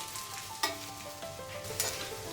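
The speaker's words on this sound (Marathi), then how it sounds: "थोडस तेल टाकून ह्याला भाजून घ्यायचंय" Thalipeeth, a mixed-flour flatbread, sizzles in a little oil on a pan, a soft, steady frying hiss with two brief sharper crackles, heard close and alone without talk.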